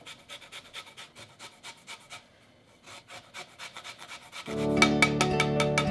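Three oranges zested on a small microplane, a soft repetitive rasping in quick strokes close by, followed near the end by a louder, denser sustained sound.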